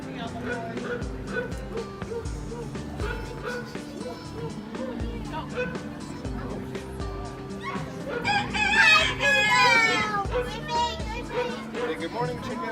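A chicken clucks and a rooster crows loudly partway through, the crow rising over a steady narrating voice and a background of farmyard sounds.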